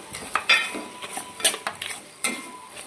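Mutton curry being stirred in a pot after rock salt and turmeric go in, heard as close, sharp metallic scrapes and clinks of a spoon against the pot at irregular intervals, with no talking.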